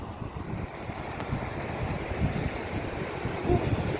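Ocean waves at night on a Gunung Kidul beach in Yogyakarta: a steady, soft wash of surf with gentle swells, mixed with wind noise on the microphone.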